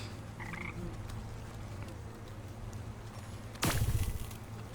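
A frog croaks faintly in the video game Wytchwood, with a couple of short, soft calls over a low ambient hum and a louder rustling thud near the end.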